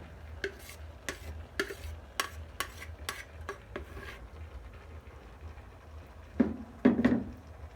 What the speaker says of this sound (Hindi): जो दही में हमने सारी चीज़ें मिक्स की थी उसे उठा के कीमे के साथ मिक्स कर देते हैं